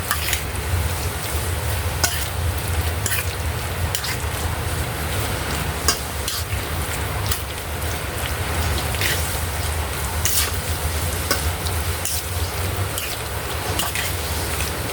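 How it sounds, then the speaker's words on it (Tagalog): A spoon stirs an egg and all-purpose flour mixture for potato tuna croquettes, a steady close wet swishing that carries on throughout with small clicks against the bowl, no voice heard. "Mix muna natin bago tayo maglagay ng flour"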